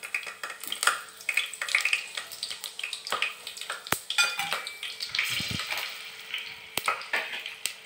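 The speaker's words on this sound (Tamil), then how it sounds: "நல்லா வதக்கிடுங்க." Vegetables and onions for veg biryani stirred and scraped in a pan, with spoon clinks against metal and a soft sizzle running steadily throughout, close up.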